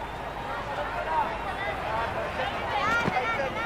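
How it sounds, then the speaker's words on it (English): Roaring stadium crowd in the Cricket 26 video game during a Pakistan Super League match, a steady broad wash of cheering and crowd noise running throughout at even loudness. "Will you listen to that crowd? They are loving this."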